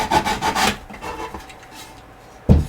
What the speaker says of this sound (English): I take a sanding block and sand these corners off.